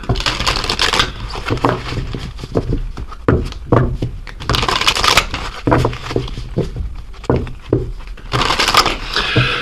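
Oracle cards being shuffled by hand for a tarot reading, loud close riffling and slapping of the deck in repeated bursts with papery scraping between them.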